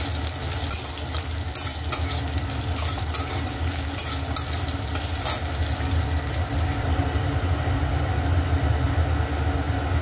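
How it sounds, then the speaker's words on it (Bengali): Potato pieces fry in a kadai with lightly fried onion for a homestyle Bengali flat bean curry, giving a steady, close sizzle with stirring scrapes throughout and no talking. "আলুটা দিয়ে দেবো। আলুটা একটু ভাজা হোক।"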